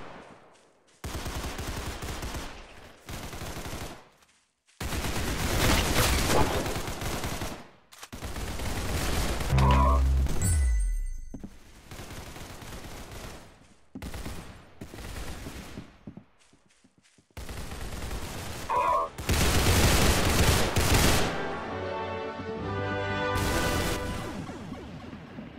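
Repeated bursts of automatic gunfire and single shots in a shooter video game, loud and close, firing in clustered volleys with short pauses throughout.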